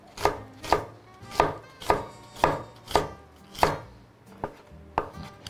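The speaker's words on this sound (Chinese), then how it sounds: "就直接把它切丝就可以了" A knife cuts an onion into thin strips on a board with crisp, evenly spaced chops, about ten strokes, close and alone.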